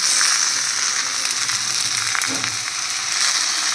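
Okra and potatoes frying in a pan, a loud, close, continuous hiss and sizzle with a faint stirring scrape partway through.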